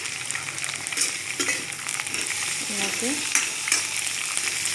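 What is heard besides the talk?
pointed gourd (potol) frying on high flame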